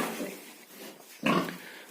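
Farm pigs grunt close by on a village farm, a continuous low snuffling with a louder grunt near the end, heard alone without talk.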